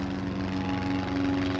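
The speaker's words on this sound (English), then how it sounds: "An Austrian plane. He flies very low." A low-flying Austrian airplane drones steadily overhead, its propeller engine producing a loud sustained hum with a strong tonal buzz and no voices.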